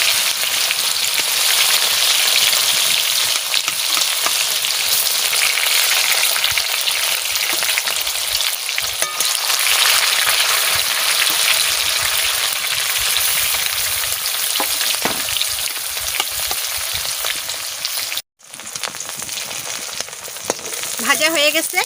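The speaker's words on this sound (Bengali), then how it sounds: "কলার মোচা আমি যে কেকের মতন একটা সাইজ বানাই নিচ্ছি, এগুলো আমি ভাজা বসাই দিচ্ছি।" Banana flower cakes fry in hot oil in a pan, a loud, dense, continuous sizzle with crackling pops, briefly interrupted by a short gap near the end before the sizzle resumes.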